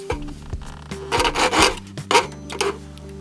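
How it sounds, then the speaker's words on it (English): A hand file rasps across the cut edge of a metal roof panel in a series of quick, close scraping strokes, each stroke a brief gritty burst over a low steady hum. "I'm just going to give it a super quick filing just to clean up some of the roughness that the cutter's left."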